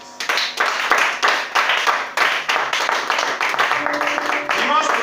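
A church congregation at a French-language worship service claps and applauds in bursts of rhythmic handclaps, fairly close and lively, with voices calling out faintly underneath toward the end.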